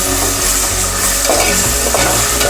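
Ground spice paste for mushroom pickle fries in a pan, a loud, dense, continuous sizzle with occasional stirring scrapes, close up and with no talk.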